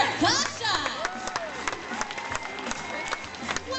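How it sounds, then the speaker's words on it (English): Audience applause and cheering at a tiger show at Six Flags Discovery Kingdom, a steady crowd clapping with scattered shouts, mixed with speech and babble across the whole stretch. "And having a big round of applause for Natasha!"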